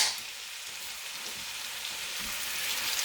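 Garlic softens in a hot pot of meat-lover's chilli base with a steady, bright sizzle and crackle, close and even throughout, with no voices.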